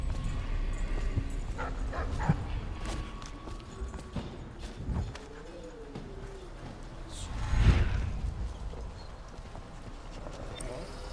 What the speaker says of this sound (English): Dude has 3 dogs.